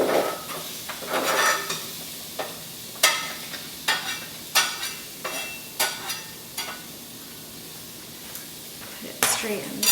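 Garlic and onion tossed into a hot pan at home, with a frying sizzle broken by sharp utensil clicks and scrapes against the pan in an irregular rhythm, close by.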